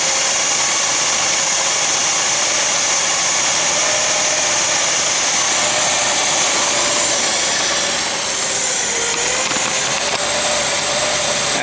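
A 1966 Chevy Biscayne big block engine runs close by with a steady, harsh drone that falters and dips partway through, as if starving for fuel.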